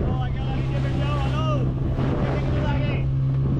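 A motorboat runs out on the sea off Calangute beach in Goa, its engine a steady loud drone throughout, mixed with wind and water noise as people talk aboard.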